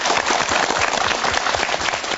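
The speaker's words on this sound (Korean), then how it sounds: "자, 격려의 박수 보내드립니다." Steady audience applause of encouragement on a Korean MBC broadcast, dense and continuous throughout with no voices over it.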